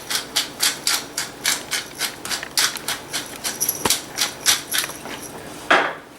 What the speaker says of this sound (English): a couple of grinds of black pepper in here